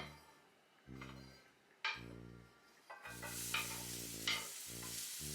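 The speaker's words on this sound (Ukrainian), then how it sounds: "양파를 볶아줘야 돼요." Onions sautéing in a pan for Ukrainian varenyky give a steady frying hiss that swells louder about halfway through, with a few stirring scrapes and a low droning hum underneath.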